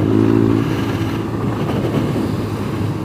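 Adventure motorcycles, including a KTM 890 and a BMW GS, ride past on a dusty route, their engines rumbling loud and close under heavy wind buffeting throughout.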